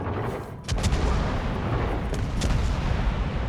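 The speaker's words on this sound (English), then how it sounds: "Salvo's out" A warship's gun salvo in a naval battle game, with a deep booming blast and rumbling roar that swells suddenly and sustains, followed by a couple of sharper reports within the continuous low rumble.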